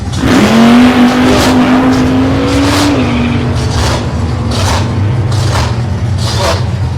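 Drag racing cars launching off the line at a Ballarat drag strip, one nitrous-equipped, heard as a loud, sustained engine roar rising in pitch as they accelerate, with crowd and track noise behind.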